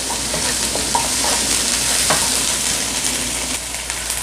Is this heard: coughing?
no